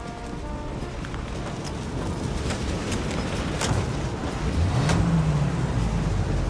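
A period car from Mafia: Definitive Edition drives along with a steady, close engine rumble and road noise that swells slightly, and a low engine tone rises and falls near the end.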